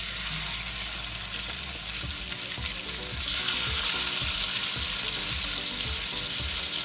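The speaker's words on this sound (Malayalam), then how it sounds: "ഇനി നമുക്ക് നമ്മുടെ ചിക്കൻ ഒന്ന് ഫ്രൈ ചെയ്തെടുക്കാം." Chicken pieces frying in hot oil in a pan for Thalassery chicken biryani, a steady loud sizzle with crackling pops and occasional stirring scrapes, no voices.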